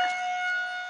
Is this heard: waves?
no